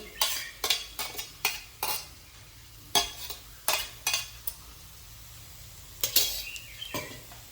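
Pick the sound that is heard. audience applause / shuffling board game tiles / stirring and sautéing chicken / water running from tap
stirring and sautéing chicken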